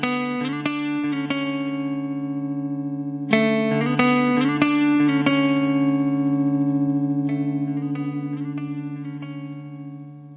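Maneco Labs 16-second delay pedal processing sustained, tonal notes: a held chord sits under plucked notes whose repeats stack and ring on, with a second flurry of notes about a third of the way in and a long, slowly fading tail.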